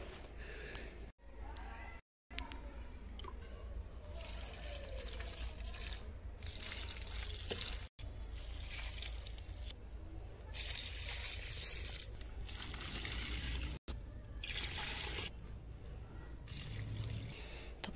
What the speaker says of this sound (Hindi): पानी डल गया सब में,